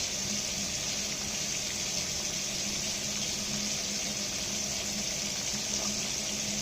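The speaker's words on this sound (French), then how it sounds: "Je vais me laver les mains." A tap runs steadily while hands are washed beneath it, a constant close hiss of water splashing into a kitchen sink, with no voices.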